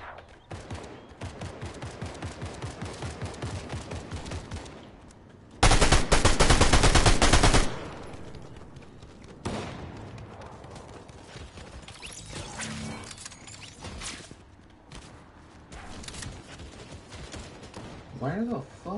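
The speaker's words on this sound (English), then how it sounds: "Go towards that shooting." Rapid automatic gunfire bursts in Fortnite, loud and close, with a very dense blast of shooting in the middle and scattered shots around it, while a player talks over the game.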